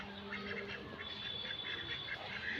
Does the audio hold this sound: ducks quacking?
yes